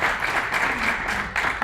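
Audience applause welcoming a speaker to the stage at an app developers' tech conference, a steady wash of many hands clapping that fills the room without a break, loud and close, with no talking over it.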